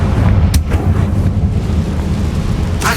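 The Confringo blasting spell in Hogwarts Legacy sets off a loud game explosion with a sharp crack, then a rumbling boom that carries on and fades, with another burst at the end.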